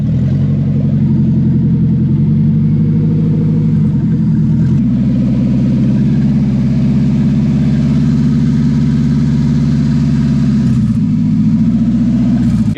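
A Nissan 300ZX with a swapped KA24DE engine idles loudly with its exhaust disconnected after a jump start, giving a steady deep rumble with brief dips in pitch, close by and alone.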